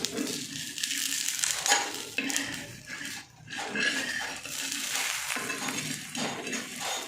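Food being sautéed in butter or ghee in a pan while making Maharashtrian shepu (dill) dhapate, with steady stirring, clinking of a spatula against the pan and soft sizzling, close and continuous with no talk.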